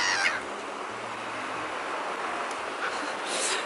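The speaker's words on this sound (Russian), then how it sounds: "чайки летают" Seagulls flying and calling outdoors in cold weather, a few harsh honking cries near the start and end over a steady wash of wind and ambient noise.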